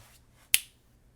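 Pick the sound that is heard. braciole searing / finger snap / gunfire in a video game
finger snap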